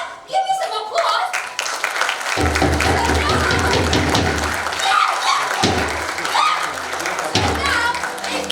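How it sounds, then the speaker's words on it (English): Scattered clapping from a small group builds into a burst of applause and cheering, with voices shouting over it. "Come on, give me some applause."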